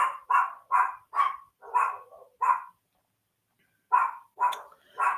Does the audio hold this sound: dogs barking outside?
yes